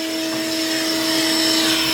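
A vacuum cleaner runs in a steady, unbroken whine during a tune-up on a 1973 Volkswagen Bus, loud and close, holding an even pitch with no talking over it.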